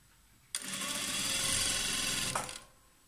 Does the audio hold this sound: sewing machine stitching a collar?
yes